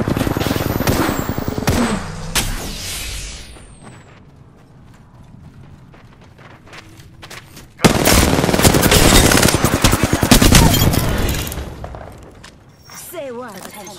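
Automatic weapon fire in the Apex Legends video game comes in loud rapid bursts, fading to a quieter lull before another heavy burst, with a voice speaking during the fight.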